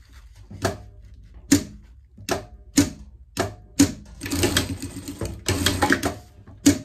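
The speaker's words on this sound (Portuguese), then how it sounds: "aqui a gente vai passar uma costura aqui" Sewing machine stitching a seam on a small pet dress, short bursts of rapid needle clatter separated by pauses, close and fairly loud, with a longer continuous run in the middle.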